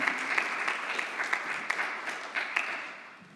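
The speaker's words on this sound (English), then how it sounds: "please join me in giving Tonda a round of applause." Audience applause at an emergency preparedness summit, a steady crowd of clapping hands with a few sharper bursts, fairly close and continuous throughout.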